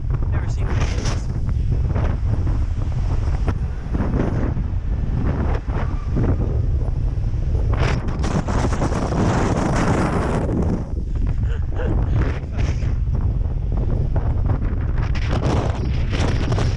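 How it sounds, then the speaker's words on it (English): Strong wind near Cape Sata, Kyushu, Japan buffets hard against the microphone in loud, continuous roaring gusts that surge and ease without letup. "It's windy."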